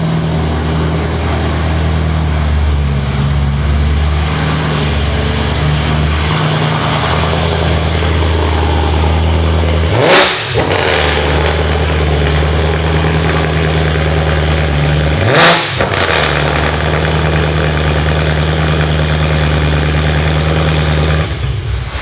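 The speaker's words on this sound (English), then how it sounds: "I didn't realize how fucking loud your car is, Max." A loud BMW E46 M3 engine runs steadily with a deep, rumbling idle, rising twice in brief sharp revs before settling back to its heavy drone.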